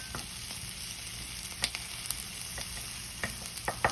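Half an onion and minced garlic sauté in a pan with a steady, soft sizzle, broken by a few faint scrapes and clicks of stirring.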